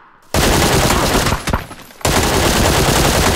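Loud, sustained gunfire in the video game PlayerUnknown's Battlegrounds, with a dense burst of rapid shots, a brief dip, then another heavy stretch of firing, close and dominant.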